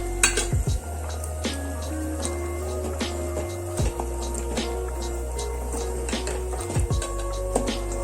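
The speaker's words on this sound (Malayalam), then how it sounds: "ഇത് നന്നായി ഒന്ന് ഇളക്കി കൊടുക്കുക." A spoon scrapes and clinks against a pan while chickpea curry with ground coconut gets stirred, giving soft repeated metallic taps over a low, steady hum of cooking.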